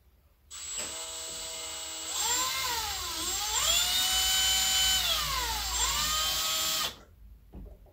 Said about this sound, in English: This is a regular drill. It is on slow, number one